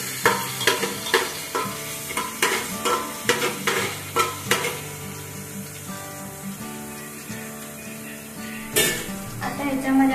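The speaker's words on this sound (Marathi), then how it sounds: "लसूण ठेचलेलं ह्याच्यात टाकून द्यायचं आणि हलवून फ्राय करायचे लसूण वगैरे सगळं तेलामध्ये" Crushed garlic stirred and fried in hot oil for pulao, with a continuous sizzle broken by regular spatula scrapes against the pan that come close and clear.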